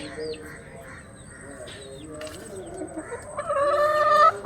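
Country chickens in a small backyard coop cluck and call in short bursts that come quick and close, growing busier and louder toward the end over a quiet background.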